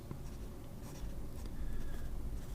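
A PSP Lotus Saratoga fountain pen fitted with a stiff Sheaffer Imperial nib writes on paper, giving a close, soft, continuous scratch and glide that swells slightly toward the end.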